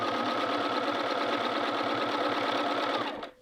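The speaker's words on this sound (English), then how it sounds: "we're going to head over to our machine and we're going to sew a 1/2-inch seam allowance" A sewing machine stitches a seam on a quilted jacket hood, its needle pounding in a fast, even rhythm at close range, running steadily for about three seconds before slowing and stopping.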